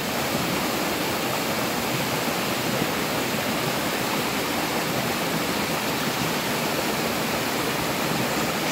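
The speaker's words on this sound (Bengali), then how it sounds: "ঝর্নার আওয়াজ, জলের আওয়াজ, এগুলো আমার খুব খুব ভালো লাগে" Rushing waterfall at Purulia falls, a steady, dense roar of falling water that stays loud and unbroken throughout, with no voices over it.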